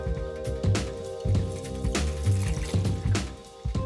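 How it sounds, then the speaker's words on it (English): Water poured into a cooking pot over pork knuckles with vinegar, peppercorns and bay leaves, a close splashing and gurgling fill with a few clunks and knocks, lasting a few seconds. "We're going to top it up with some water,"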